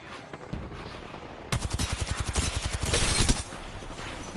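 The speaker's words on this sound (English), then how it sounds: "We're all shooting this man for him and he still dies." Rapid bursts of video game gunfire from several weapons at once, a quieter lead-in giving way to loud, dense automatic volleys that rattle on for about two seconds.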